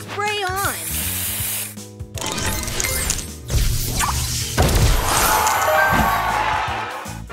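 Spray booster effect in the Match Masters puzzle game: two hissing spray bursts with crashing, sparkly game effects, layered over background music and an announcer-style voice.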